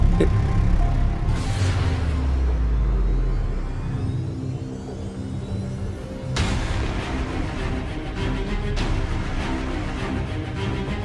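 A car engine rumbles and whirs steadily, swelling as it accelerates away, with a fresh surge of engine noise partway through and no voices.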